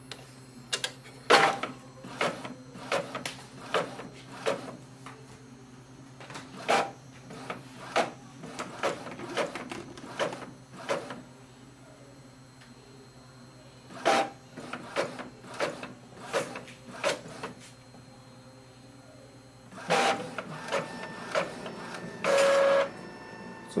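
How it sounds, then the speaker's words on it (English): An Epson XP 4200 inkjet printer runs a copy job, with a steady mechanical hum under repeated sharp clicks and clacks of the print head and paper feed, then a louder whirring burst near the end as the page comes out. "click on this button for the copy and wait for the printer to start"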